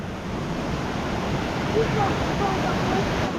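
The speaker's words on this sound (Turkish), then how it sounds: "Buzlardan gelen su bak" Glacier meltwater stream in the high mountains of Peru, rushing as a steady broadband water roar close by, with a faint voice in the background.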